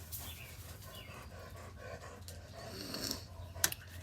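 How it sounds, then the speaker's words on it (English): A dog pants indoors, faint and close, with soft rapid breaths over low room hum and a couple of sharp clicks near the end. "this dog is driving me crazy"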